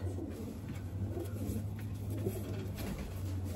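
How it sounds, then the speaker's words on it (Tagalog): Racing pigeons coo softly and steadily in a loft, a low continuous burbling with faint bird chatter over a constant background hum. "Yan ang mga ibon."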